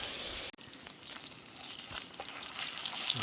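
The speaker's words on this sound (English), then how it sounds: "This will give me some grease to cook the eggs in too." Eggs frying in grease in a pan on a camp stove during a winter backpacking trip, a steady soft sizzle with a brief dropout and a few crackles, heard close with no talk.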